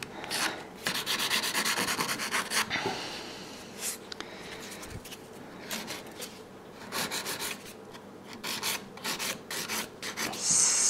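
Fingernails filed into an almond shape by a nail technician, a steady close rasping of repeated back-and-forth strokes running nearly continuously with brief pauses.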